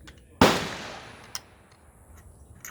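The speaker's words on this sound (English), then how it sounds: "I'm gonna go ahead and shoot the top left target" A single sharp rifle shot cracks out at a shooting range, fired through a Triggertech Diamond trigger, then a quick decaying echo and a fainter knock follow in the otherwise quiet air.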